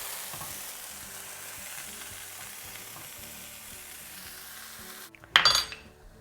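A paneer cheddar sandwich frying in butter in a pan gives a steady, close sizzle for several seconds, then a brief louder clatter and scrape of the pan near the end.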